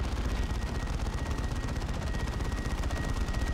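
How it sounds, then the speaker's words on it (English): Continuous rapid-fire assault cannon bursts from a Terminator squad in the Dawn of War 2: Retribution strategy game, a dense unbroken mechanical rattle with a thin high tone running beneath, steady and loud for the whole stretch. "we've got some infinite assault cannon fire over here with the Terminator squad"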